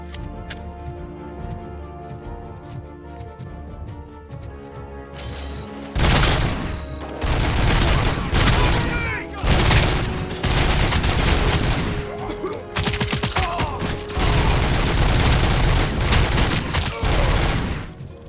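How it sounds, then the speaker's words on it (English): Sustained rapid gunfire from a firefight in the Robocop: Rogue City video game, loud bursts of automatic fire crackling almost continuously with brief gaps. "Keep firing!"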